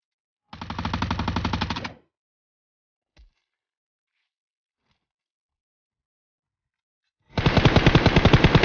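Machine gun fire in a zombie survival video game comes in two loud sustained rapid bursts, one near the start and one at the end, separated by silence and a single faint click.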